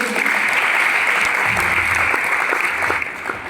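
A crowd claps for Maya Didi at a motivational success-story event, dense steady applause filling the room at close range from start to finish.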